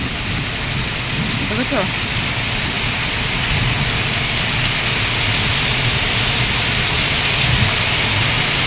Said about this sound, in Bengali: প্রচণ্ড ঝড় হচ্ছে